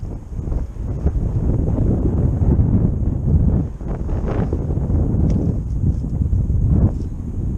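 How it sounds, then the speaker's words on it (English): Strong wind blowing across a marsh, a loud continuous rushing roar buffeting close by with slight surges, no voices. "The wind's blowing me stronger than the current."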